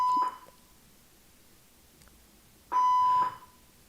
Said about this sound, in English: fire alarm in the building.